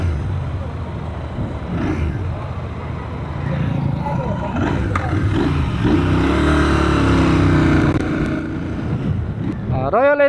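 Royal Enfield Interceptor 650 motorcycle engine rumbles and revs while riding on an expressway, with heavy wind buffeting the microphone and a voice speaking over it.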